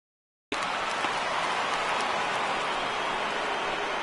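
Steady rain falling on a baseball stadium in the video game MLB The Show 19, a dense continuous hiss of raindrops that starts abruptly after a brief silence and stays loud and even.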